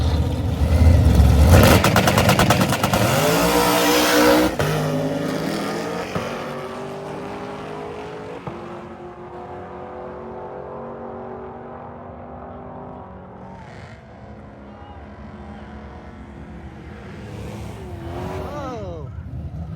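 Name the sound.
drag race car making a full pass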